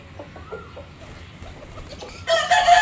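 A rooster makes low, soft clucking calls to its hens over quiet farmyard background, then a louder, brighter burst of bird calls near the end.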